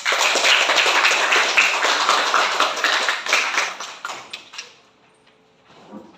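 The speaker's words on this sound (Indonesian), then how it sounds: "Berikan tepuk tangan." Classroom applause after a group presentation, a burst of students clapping that fades out after about four seconds into near silence.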